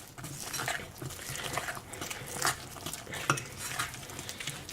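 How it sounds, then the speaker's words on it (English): Vegan chocolate chip cookie dough, soft and a bit gooey, stirred in a bowl with a utensil, giving a steady close-up run of wet scraping and clinking strokes with a few sharper knocks against the bowl. "Mix this up nicely."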